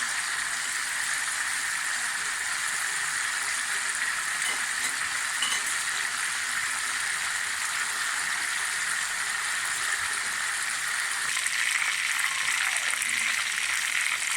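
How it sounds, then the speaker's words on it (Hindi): Chicken legs fry in a pan with a constant, even sizzle that stays close and moderately loud for the whole stretch, with no talking. "अब ये 5 से 6 मिनट तक फ्राई हो जाए।"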